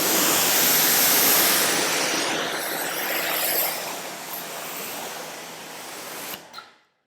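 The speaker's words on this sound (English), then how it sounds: "After you use the iron remover, you definitely want to rinse the panel just to get everything off with a hose." A garden hose rinsing water over a car body panel after iron remover, a steady loud hiss and splash close by that gradually softens before cutting off abruptly.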